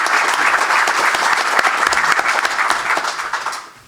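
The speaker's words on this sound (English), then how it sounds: "Let's give Wood a hearty round of applause" A hearty round of applause for the athletic director at a press conference, dense crowd clapping that holds steady, then fades out at the end.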